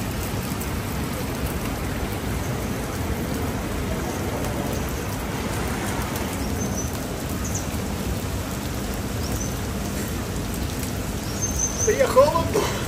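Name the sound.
rain falling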